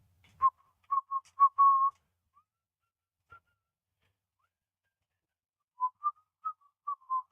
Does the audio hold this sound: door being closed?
no